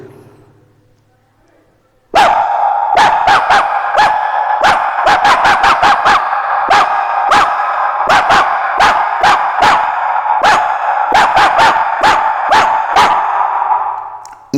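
A man imitates the barking of a foreign-breed guard dog, giving a rapid series of loud, sharp barks close to the listener after a quiet opening.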